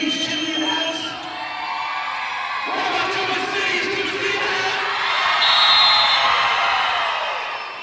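A crowd at a girls' 3A North Region semifinal basketball game between Tuba City and Chinle cheers and whoops loudly in a gym, swelling into a roar as a DJ hypes them, with voices shouting over it.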